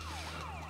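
A wailing ambulance siren from the GTA: Chinatown Wars video game sweeps up and down steadily, loud and continuous, over a low engine drone.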